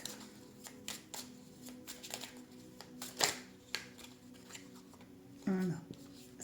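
Tarot cards shuffled, flicked and laid out on a table in a three-choice reading, soft papery snaps and slides close by, with quiet speech underneath.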